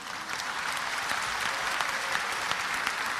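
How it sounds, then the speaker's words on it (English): An audience at a religious lecture claps steadily, dense sustained applause filling the hall at moderate loudness with no talk over it. "MashaAllah, you're clapping."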